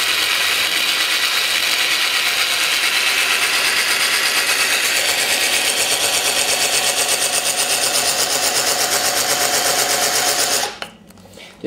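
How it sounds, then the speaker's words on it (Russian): Cordless screwdriver at less than full speed drilling a ventilation hole through the glass of a snail terrarium, a steady loud whirring grind with a fine rattling texture that runs for about ten seconds and then stops. "Но при этом, опять-таки, сверление получается быстрее."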